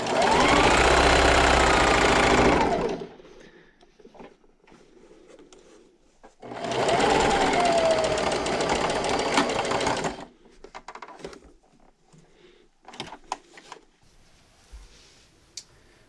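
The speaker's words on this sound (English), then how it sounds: "And then sew until I get to this edge and backstitch." A sewing machine stitches and backstitches along a napkin edge in two loud, steady whirring runs of about three seconds each, followed by quieter clicks and handling taps.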